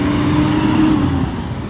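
Bus engine idling at Terminal Arjosari Malang, a steady low rumble close by while a bus waits and boards passengers, with no talk.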